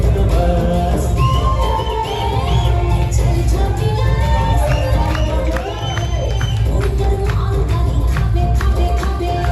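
A packed crowd cheers, whoops and applauds at the Smart Cinema Award 2025, a Chhattisgarhi film awards ceremony. The roar stays dense and loud throughout, with shouts and claps layered over a steady wash of audience noise.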